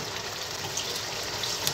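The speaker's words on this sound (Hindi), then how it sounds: "मिलाने के बाद में अब हम इसमें एक गिलास पानी और डालेंगे।" A glass of water pours into a pan of spiced potato curry, producing a steady rushing splash close by that runs evenly through the whole moment without any talk.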